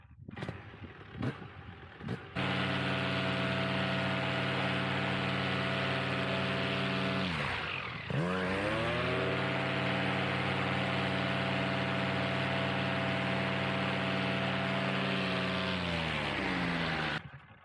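Outboard boat engine fitted with a KD propeller runs at a steady high rev with a strong harmonic whine, briefly dips and climbs back around the middle, then holds near and loud to the end.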